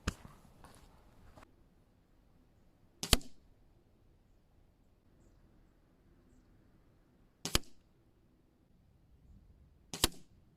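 A Diana P5 Magnum air pistol fires at a target 20 m away: three sharp, close cracks a few seconds apart, each followed by quiet, with faint handling clicks at the start.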